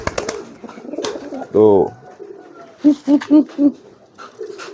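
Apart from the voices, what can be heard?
young pigeons cooing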